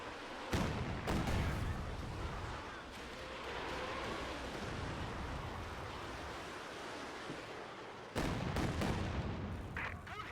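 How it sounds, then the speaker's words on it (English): Katyusha rocket barrage striking a base in Company of Heroes 2, with sharp explosive impacts near the start and again toward the end, separated by a steady rumbling wash of battle noise. "Katusha Barrage coming in down onto the base."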